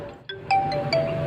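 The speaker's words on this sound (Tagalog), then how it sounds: "Telepono mo yata yung nagre-ring." A phone ringtone plays in a short run of bright electronic tones, rising and repeating at a steady moderate level with no talking over it.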